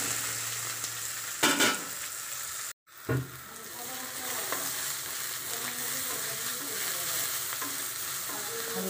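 Vegetables frying lightly in oil, a steady close sizzle with a few spoon scrapes and a brief knock, a short gap mid-way, then the sizzle resumes evenly.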